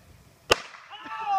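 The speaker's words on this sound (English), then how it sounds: "Three firecrackers." A single small Black Cat firecracker pops with a sharp, loud crack, followed by a ringing, fizzing tail as debris scatters nearby.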